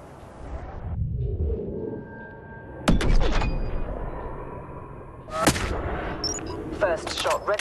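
Sniper rifle shots in the mobile game Hitman Sniper: two or three loud, sharp cracks with booming tails, spaced apart over low game ambience and electronic tones, plus a voice speaking.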